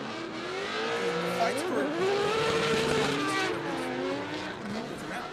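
Rotary-powered Mazda Miata drift car battling at Irwindale Speedway, its high revving engine rising and falling while tires squeal across the track, heard at a distance under an excited commentator's voice.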